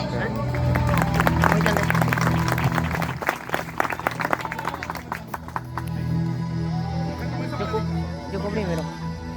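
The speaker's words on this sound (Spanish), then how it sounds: "Dale fuerte aplauso." A church congregation applauds strongly during a service, with dense crowd clapping that peaks early and then thins out, and a voice speaking over the fading applause.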